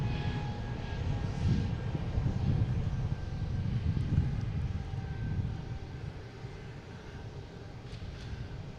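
A passenger jet bound for Nashville on flight 2586 roars steadily overhead near Boston Logan International Airport, a broad continuous rumble that swells and slowly fades, with light wind noise.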